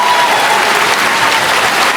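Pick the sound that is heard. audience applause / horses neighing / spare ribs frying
audience applause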